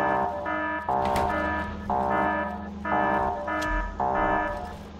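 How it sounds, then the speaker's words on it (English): Repeating alarm tones from the factory game Factorio sound in regular pulses about once per second, steady and moderately loud, with no talk over them. "which makes these alarms go off."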